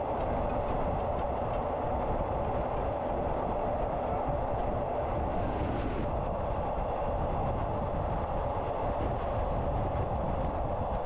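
A train pulls out of Don Mueang station in Bangkok, down from the elevated track toward ground level. It gives a continuous loud rumble and rattle of the carriages from inside the train, steady throughout, with no speech.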